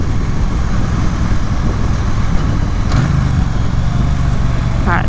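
A 2017 Triumph Bonneville motorcycle pulls onto a highway on-ramp in second gear, its engine a steady loud rumble mixed with wind roar throughout, close to the rider.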